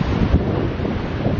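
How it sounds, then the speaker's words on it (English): Rough, blustery wind buffets the microphone over the churning rush of choppy sea waves, loud and constant. "Blimey, that sea is choppy."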